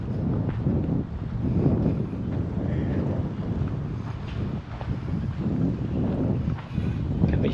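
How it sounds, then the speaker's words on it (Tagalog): Steady wind buffeting the microphone outdoors in a botanical garden by a pond, a continuous low rushing roar that swells and dips without pause. "medyo maganda-ganda yung hangin"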